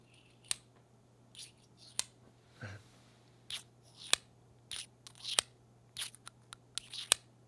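A Studio Neat Mark II pen is handled near the microphone, giving a run of sharp clicks and soft taps as it snaps into its magnetic base. The sounds are faint and scattered against a quiet room hum.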